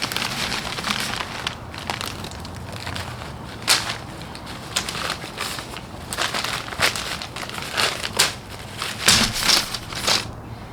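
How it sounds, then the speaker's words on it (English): Old twine being unwrapped from a tomato plant stake, giving a steady close rustling and crinkling with scattered sharper crackles and snaps, with no talking. "I'm going to unwrap it from the old twine and get me a new stake out"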